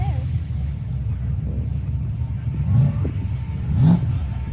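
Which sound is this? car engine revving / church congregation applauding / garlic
car engine revving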